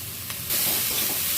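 Banana stem drops into a pan of frying potato and tomato, and a quiet sizzle jumps into a loud, close, hissing fry that carries on steadily.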